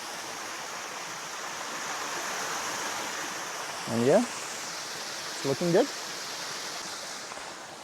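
A waterfall gives a steady, moderate broadband rush of falling water on a photography outing. It runs throughout, and a person speaks briefly over it near the end.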